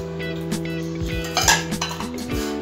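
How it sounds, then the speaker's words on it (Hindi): Metal clatters and scrapes in a large steel plate as flour and gram flour are mixed by hand, with uneven clinks and knocks of utensil against metal, close and moderately loud, no talking. "अभी हमने बड़ा बर्तन लिया है, बड़ी थाली, उसमें मैदा और चने का आटा मिक्स कर देते हैं"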